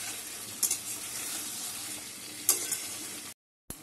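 Prawns sautéed slowly in a pan for a Bengali yogurt prawn dish, giving a soft continuous sizzle with a couple of sharp clinks of the spatula, faint and close, ending in a brief silence.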